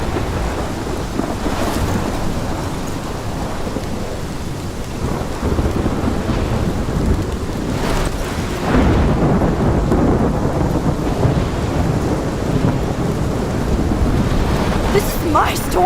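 Thunderstorm from the video game Life is Strange: steady heavy rain with wind and low rolling rumbles of thunder, continuous and full throughout.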